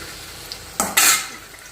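Vegetables frying and being stirred in a home kitchen pan, a brief burst of hissing sizzle with a short scrape, loud and close, alone without talk.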